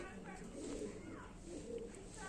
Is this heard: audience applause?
no